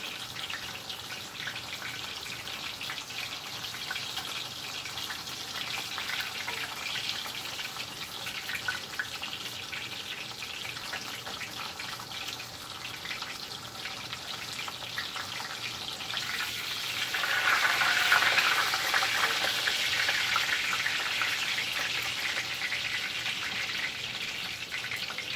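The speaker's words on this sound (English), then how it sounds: "how my oil got really aggressive right there. It started throwing stuff at me." Hot oil frying milanesa in a pan gives a steady, close sizzling hiss that swells louder and more spattery partway through, with no voices over it.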